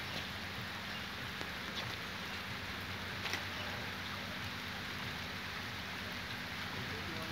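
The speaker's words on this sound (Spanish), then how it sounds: "Tenemos una fuerte lluvia." Heavy rain pouring steadily over the mangrove waters of Isla Santay, a dense, even hiss of drops on surfaces that continues unbroken at a moderate, distant level with no voices.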